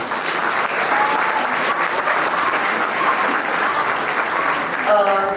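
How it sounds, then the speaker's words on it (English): Sustained applause from a crowd at a Model United Nations closing ceremony in a hall, dense and even for several seconds, with a voice starting to speak just at the end. "Can we get a round of applause?"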